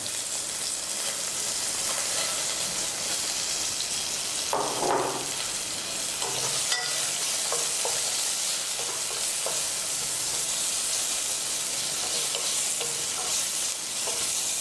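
Finely chopped garlic and onions frying in a pan, a constant close sizzle with bursts of scraping as the mixture is stirred, no voices.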